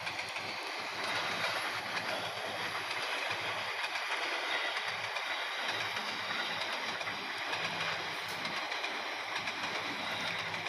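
A Blambangan Express passenger train hauled by a CC 206 locomotive, heard from aboard the moving train: a steady, loud rolling rumble with continuous rail clatter and wind noise, no voices.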